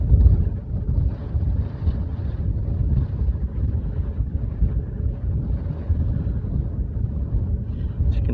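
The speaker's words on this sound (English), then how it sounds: "As you can tell, it's a bit breezy." Steady, loud wind roars across the exposed summit of Mount Famine in the Peak District, buffeting the microphone with continuous low rumbling gusts throughout, with no voices.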